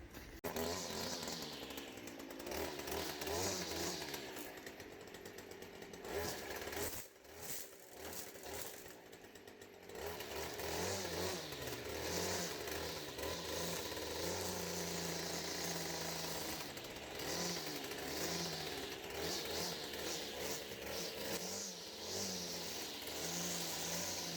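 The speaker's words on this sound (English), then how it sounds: "we'll trim all these weeds down" A string trimmer cutting down weeds in a garden, its motor giving a loud, close, continuous buzzing whine that dips briefly partway through before roaring on steadily, with no talking.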